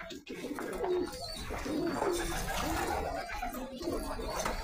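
Pigeons kept in the Saudi Arabian desert coo repeatedly and close by, their soft throaty calls rolling over a constant background hum and rustle.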